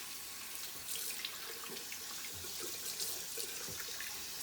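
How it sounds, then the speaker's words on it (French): A tap runs continuously into a sink as hands are washed under it, a steady close splashing with small irregular spatters and no voices. "vous finissez de savonner et de frotter, vous lavez la main"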